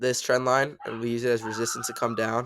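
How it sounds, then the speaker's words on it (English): A dog barks and yips in short bursts in the background, partly masked by someone talking steadily over it. "sorry for my dog."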